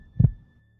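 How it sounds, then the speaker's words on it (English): A single deep heartbeat thump, soft and low, swelling and fading quickly, presented alone against near silence as a sound effect. "I swear I could literally hear my own heartbeat thumping."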